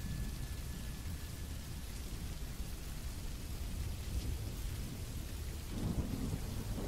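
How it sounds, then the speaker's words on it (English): Heavy rain drums steadily on a tent in a dense, constant hiss, with a deep low rumble underneath; no voices. "It was raining hard on my tent, like a constant drumming sound."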